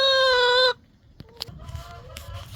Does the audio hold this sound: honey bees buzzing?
no